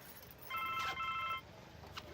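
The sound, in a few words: phone ringing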